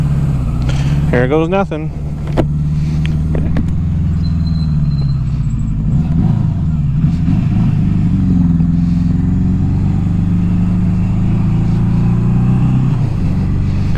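A 1982 Suzuki GS750T motorcycle being ridden, its engine holding a steady, close, throaty drone with brief revs and gear changes, while a rider speaks briefly at the start.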